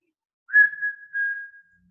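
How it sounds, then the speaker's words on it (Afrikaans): A person whistles two steady, clear notes, close and alone in near silence, each held for about half a second. "en we gaan probeer fluit."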